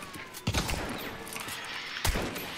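Gunfire in the video game Hunt: Showdown: two sharp, loud shots about one and a half seconds apart, each with a short booming tail, over a steady background of game ambience.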